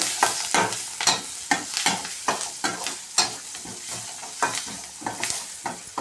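Okra frying in a pan with a pinch of turmeric is stirred, giving a steady run of sharp scraping strokes over a constant background sizzle, close and fairly loud, with no voices.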